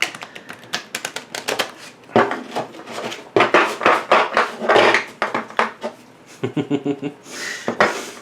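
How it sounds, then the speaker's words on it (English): Rapid, irregular clicking and flapping bursts of tarot cards being shuffled by hand come in uneven flurries close up, with a few sharper clacks. "It is awkward to shuffle"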